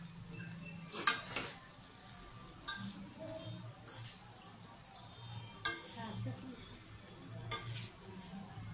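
Poha upma is tossed with two ladles in a pan, producing scattered metallic clinks and scrapes over a faint background sizzle, irregular and fairly close.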